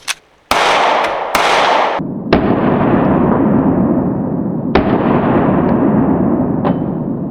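Pistol shots from a SIG P365X and a Walther at a range, five or six sharp loud cracks in an irregular sequence, each followed by a long rolling echo.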